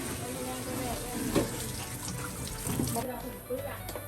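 Water from a tap splashes and runs steadily over catfish being rinsed, with scattered clinks and sloshes and people talking throughout.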